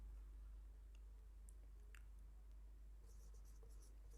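A pen scratches across paper as a point is written out, with faint, close, intermittent strokes over a steady low hum.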